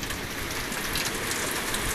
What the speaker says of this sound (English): and now the rain's blowing up underneath here too. Cold rain.